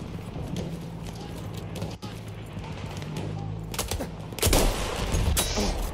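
Battlefield sniper rifle gunfire in a first-person shooter, a sharp crack near the start and another loud report around the four-and-a-half second mark over steady game ambience and footsteps.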